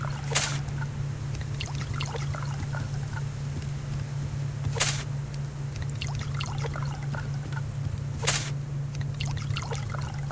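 Water pours steadily onto plants in a continuous trickling stream, fairly faint against a low steady hum, with a few brief louder splashes and no talking.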